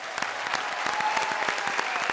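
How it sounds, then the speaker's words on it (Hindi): Studio audience applause on a comedy show, dense and steady clapping from a sizable crowd throughout a brief stretch, with individual hand claps standing out. "अनिल जी के लिए थोड़ी बहुत तालियां हो जाए।"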